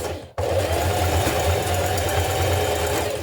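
A sewing machine runs continuously, zigzag stitching over the joined ends of an elastic band, its steady mechanical whir starting abruptly after a brief silence and holding close and even throughout.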